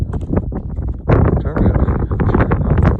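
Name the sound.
strong wind on a mountain ridge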